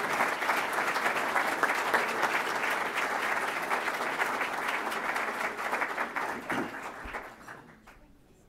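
An audience applauds steadily to welcome Angel Martinez at a business talk, a dense, even wash of clapping that gradually thins and fades out near the end.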